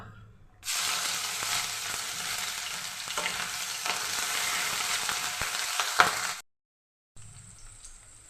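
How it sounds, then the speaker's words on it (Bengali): Grated ginger and green chillies fry in oil in a pan, giving a loud, steady sizzle with stirring scrapes that runs for several seconds, breaks off briefly, then comes back. "এটা একটু ভেজে নেব দিয়ে দিচ্ছি গ্রেট করা আদা আর কাঁচা লঙ্কা"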